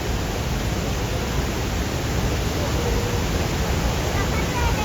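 A steady, dense roar of wind and falling water at Niagara Falls, loud and unbroken throughout, like broadband rushing noise close by.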